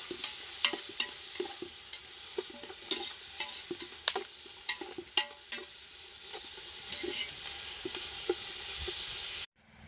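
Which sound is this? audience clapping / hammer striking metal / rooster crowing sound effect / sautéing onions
sautéing onions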